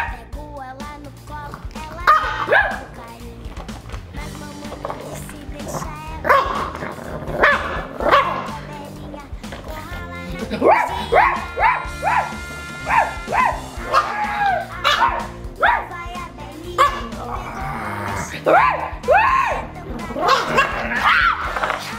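A girl imitates a dog, giving repeated barks, yips and whimpers loudly and close up, with bursts of laughter and other sounds mixed around them.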